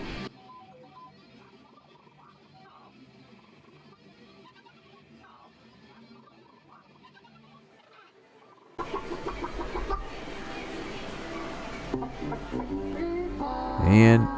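A chicken inside a tic-tac-toe arcade machine clucks faintly at first, then louder machine noise and clucking take over in a busy, echoing arcade, with voices in the background.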